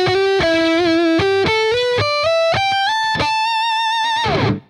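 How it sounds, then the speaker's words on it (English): A distorted Kirk Hammett White Zombie LTD electric guitar on its middle pickup plays a stepwise run of single sustained notes, climbing steadily, loud and gritty, ending as the final note is cut off. "Let's do some middle pickup on distortion."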